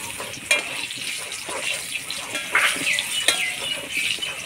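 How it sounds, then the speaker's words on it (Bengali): Potatoes fry in a pan in a home kitchen on a rainy morning, giving a close, steady sizzle with occasional sharp clicks and scrapes from stirring. "আলুটা ভাজা হয়ে গেছে এবং উঠাই নেব"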